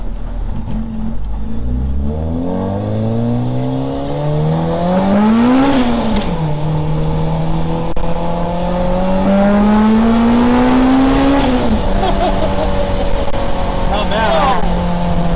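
A supercharged 1990 Acura Integra DA9 pulls hard through the gears, its engine and blower whine rising in pitch, dropping at a shift, then climbing again, loud and close from inside the car with brief talk.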